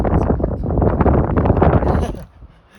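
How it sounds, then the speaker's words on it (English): Strong wind buffets the microphone on Chocolate Peak, a mountain summit, in a steady, rumbling roar that drops off abruptly near the end. "It's quite windy today"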